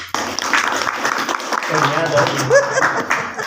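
An audience at a business event claps in a steady patter while a loud voice on stage speaks over it, with a little laughter mixed in.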